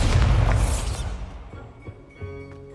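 A deep, booming magical blast from the Bombarda spell in Hogwarts Legacy bursts loudly, then rumbles away into quieter thuds and faint debris.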